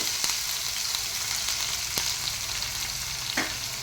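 Finely chopped onion fries in tempering oil with two dry red chillies, giving a steady, bright sizzle and a few soft ticks of stirring, close and without talk.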